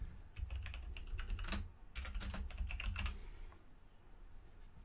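Rapid typing on a computer keyboard while entering text for a beginner programming lesson, with quick bursts of close, crisp key clicks, a brief pause near the middle, then quieter tapping trailing off at the end.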